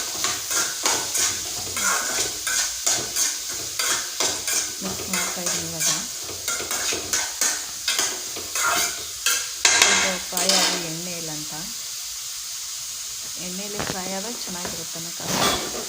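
Food in a frying pan gets stirred with rhythmic scraping strokes over a sizzling bed of oil, close and busy for about ten seconds before the sizzle settles and a voice speaks briefly.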